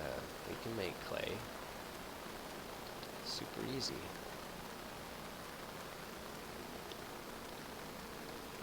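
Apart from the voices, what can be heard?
rain in video game Minecraft Agrarian Skies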